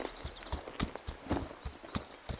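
A horse's hooves clip-clop in a video game, a quick uneven rhythm of light thuds close by at low volume, with faint background sound between steps.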